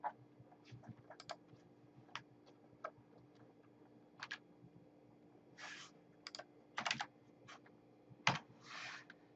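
Computer keystrokes tap out a drafting command for hatching an orthographic drawing, scattered crisp clicks in small bursts and single taps, close and quiet, with no voices.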